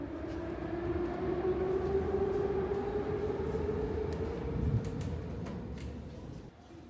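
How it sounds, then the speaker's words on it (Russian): A train rumbles through Ploshchad Pobedy metro station in Minsk with a steady droning whine and clatter that echoes off the platform, then fades near the end. "мы находимся на станции метро Площадь Победы"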